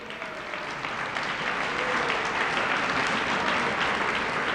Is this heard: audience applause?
yes